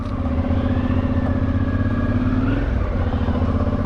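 Motorcycle engine sputtering unevenly while riding home on a Florida road with failed rear brakes, a steady, loud, close mid-pitched drone with a slight wobble in its note and no talking.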